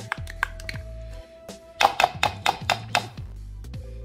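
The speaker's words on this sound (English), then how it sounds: "And we're going to mix these all together." A spoon stirs tuna salad with sweet relish and yellow mustard in a bowl, giving a close series of light taps and clinks in uneven bursts with short pauses between them.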